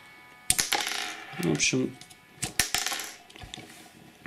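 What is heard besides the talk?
click mechanism firing rockets on LEGO Iron Man set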